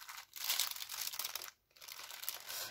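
Wrapping paper on a gift crackles and crinkles as it is handled and torn open, with a brief pause midway; close-up and quiet, with no talking.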